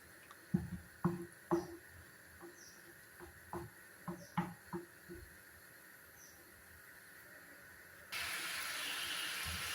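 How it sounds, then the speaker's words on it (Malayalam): Ghee bubbles in a pan, a faint series of irregular soft pops and crackles spaced about half a second apart, followed by a sudden steady louder hiss near the end. "നമ്മുടെ നെയ്യൊക്കെ നന്നായിട്ട് തിളച്ച് വരുന്നുണ്ട്"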